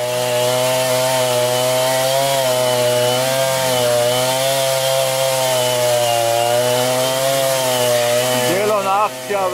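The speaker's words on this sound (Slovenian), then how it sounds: "Tukaj se pa lepo žaga in dela in štima." A chainsaw cuts firewood outdoors in a valley while children stack logs, its engine droning steadily and loudly for the whole stretch, with the pitch wavering as the saw bites into the wood.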